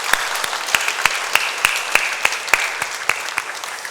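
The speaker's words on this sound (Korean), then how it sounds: "박수로 영광 올려드리겠습니다" A church congregation claps at the close of a Sunday daytime worship service, with a steady bed of applause cut through by sharp, loud, evenly spaced claps that keep a regular beat about three times per second.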